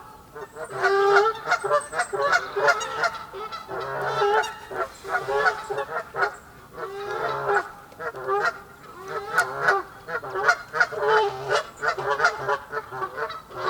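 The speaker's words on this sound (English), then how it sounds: "Got a turf war here between the bloody geese." Geese honk repeatedly in a noisy territorial squabble, loud and close, with bursts of overlapping calls coming in irregular waves throughout.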